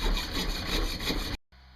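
Saw cutting through a metal part in a home workshop, a steady rasping stroke sound lasting over a second, loud and close, then stopping abruptly with only faint room noise after.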